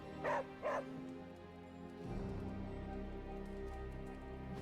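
Two quick barks from Charlie the dog in Marvel's Midnight Suns ring out at the start, then fade into a steady rain-like background wash.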